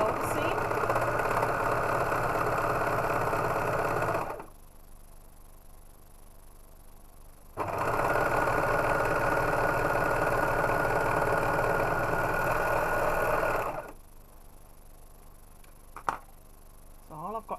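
A sewing machine stitches a shoulder seam in two long steady runs of rapid mechanical whirring, each stopping abruptly, with a quiet pause between them and a faint click near the end.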